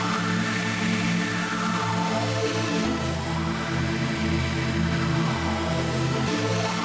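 A wide synth pad built from detuned unison wavetable oscillators, with LFO2 modulation set to a slight negative amount, holds sustained chords that shift near 3 and 6 seconds, dense and steady with no voices.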